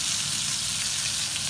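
Food fries noisily in a pan at home, a loud, dense, continuous sizzle with a crackling hiss that stays close and steady throughout, with no talking.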